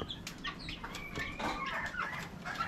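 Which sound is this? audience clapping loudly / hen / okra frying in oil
hen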